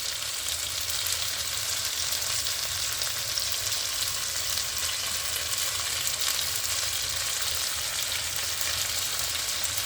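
Meat for pasta sizzles in a hot pan, a dense, steady crackling hiss held close and continuous with no voices.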